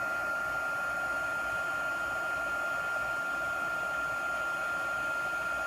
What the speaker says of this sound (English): people go back and forth with their heat tool like it's a hair dryer